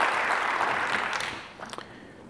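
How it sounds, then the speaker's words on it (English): Audience applause at a mayor's State of the City address, a broad wash of clapping that fades after about a second and a half, with a few scattered claps trailing off. "So let's all give them a round of applause."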